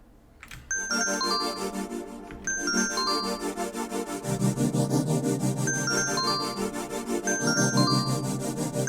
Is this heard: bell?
yes